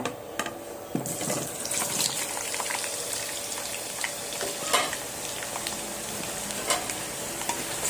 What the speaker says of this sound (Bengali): পরিমাণ মতো তেল দিয়ে দিয়ে নারকেল আর আলুটা লবণ আর হলুদ দিয়ে ভালো করে ভেজে নেব